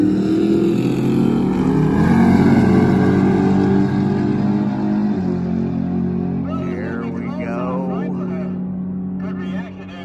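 Drag race cars launch at a night race, a loud, close engine roar that surges and then fades as the cars pull away, with an announcer talking over it.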